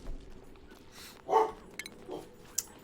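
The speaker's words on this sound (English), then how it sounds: "Dog barking." Dog in the game Oxygen Not Included barking faintly a few times, short scattered yips over a quiet background.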